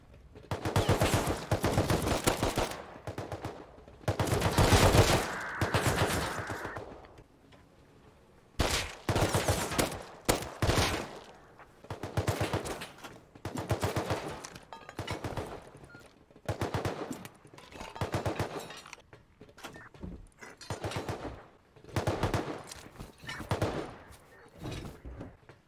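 Sustained automatic gunfire rattles through a video game raid on a farm base, with long and short bursts of rapid shots repeating across the stretch, loud and near with brief gaps.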